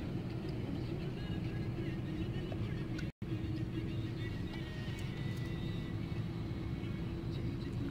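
Road traffic on a city street makes a constant low rumble of engines close by, with people talking over it.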